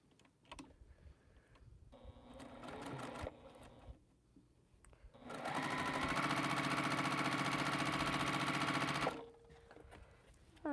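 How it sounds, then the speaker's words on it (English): A sewing machine stitches quilt fabric in a short burst, pauses, then runs in a long, fast, steady whir for several seconds before stopping, close and clear with no talk. "I need to sew the other ends together. So let's do that."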